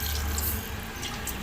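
Rice-washing water is poured into a pot while making Chhattisgarhi-style kadhi, a close, steady splashing stream that runs the whole moment without talk.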